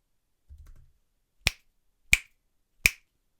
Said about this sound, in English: This is to snap your fingers.